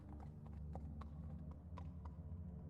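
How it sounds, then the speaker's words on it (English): Horse hooves clip-clopping on hard ground outside a door, a quick run of faint hoofbeats over a low droning background hum, with no talking. "And then he heard the horse stop outside the front door."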